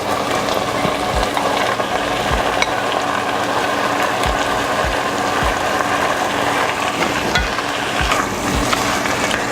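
Tomatoes sizzle in a hot pan for a potato and pepper stew, a steady loud frying hiss broken by repeated low knocks and scrapes of stirring at irregular intervals.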